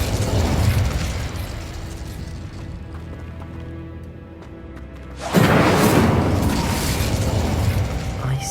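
A Confringo explosion spell effect in Hogwarts Legacy: a sudden loud burst erupts after a stretch of quieter rumbling and mechanical ambience, then a broad roar sustains and slowly fades.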